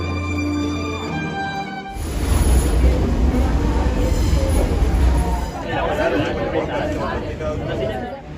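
Train running into Passeig de Gràcia station in Barcelona: a few seconds of steady tones, then a loud, close, continuous rail rumble with wheel noise that eases slightly near the end.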